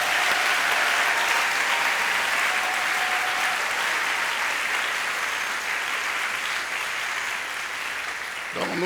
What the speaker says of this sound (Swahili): Tumpikie tena Bwana makofi.